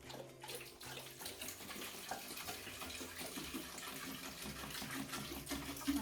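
Water gushes steadily into a container as the first ingredient for a homemade fizzy drink, a continuous close splashing and running sound with no talk.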